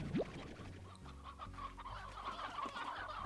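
A chicken in the video game Slime Rancher clucks in short, close bursts over a low game soundtrack, with no talking.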